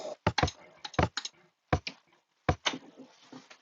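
Keys clacking on a computer keyboard while a password is typed for a Minecraft redstone lock, a dozen or so close, sharp strokes in irregular bursts with short pauses.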